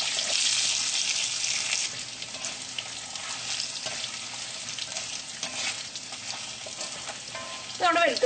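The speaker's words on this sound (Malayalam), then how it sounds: "ഈ വെളുത്തുള്ളി ഒരു ചെറുതായിട്ട് ഒരു ഗോൾഡൻ ബ്രൗൺ കളർ ആവണം." Chopped garlic sizzling and frying steadily in hot oil in a pan for a Kerala-style tomato chutney, a continuous close crackle with brief stirring clatter near the end.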